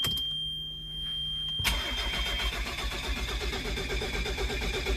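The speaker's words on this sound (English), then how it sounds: "we're just going to crank it and see what happens" A car engine cranks briefly with a whirring starter, then catches at under two seconds and settles into a loud, steady running rumble, up close with no talk.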